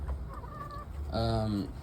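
Pet hens, about six in a backyard coop, make a short burst of clucking, ending in one louder drawn-out squawk close by.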